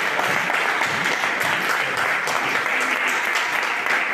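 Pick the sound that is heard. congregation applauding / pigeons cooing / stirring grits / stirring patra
congregation applauding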